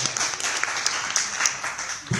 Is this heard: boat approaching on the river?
no